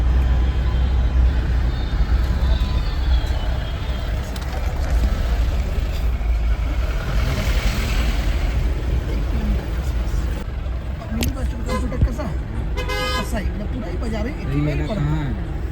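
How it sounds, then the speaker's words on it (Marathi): A vehicle drives along a mountain road toward Sonprayag on the Kedarnath route, with a steady, close engine rumble and road noise throughout; a short horn-like tone sounds near the end over faint background voices. "आता आपली फायनली गाडी चालू झाली."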